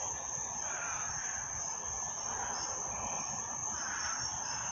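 Crickets and cicadas at night beside a road, making a steady, dense shrill chirring that carries on without a break, moderately faint and heard from a distance.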